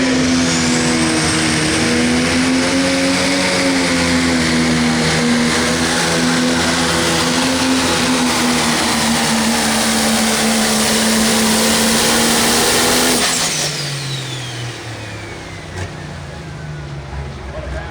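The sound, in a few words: pro stock tractor pull, 680 cubic inch turbocharged engine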